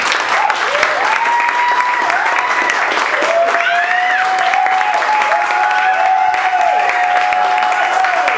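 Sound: audience applause for a poet

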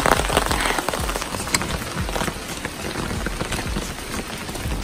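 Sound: rain falling

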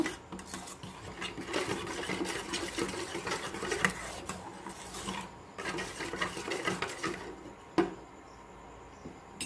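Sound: mixing spice paste with mustard oil in a bowl

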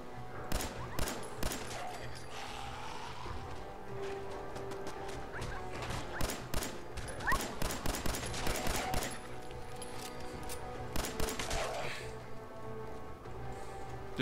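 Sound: machine gun gunfire in the video game Fallout 4

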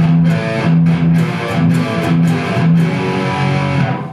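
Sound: distorted electric guitar with palm muting

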